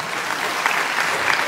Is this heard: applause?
yes